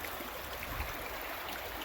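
Water on a farm runs under culvert pipes rather than through them, a soft steady burble and trickle heard faintly and close by, with no talk.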